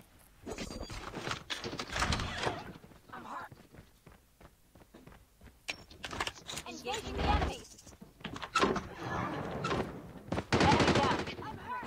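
Bursts of video-game gunfire, single shots and rapid automatic volleys, come in loud clusters with running footsteps between them, while a player talks over the action throughout.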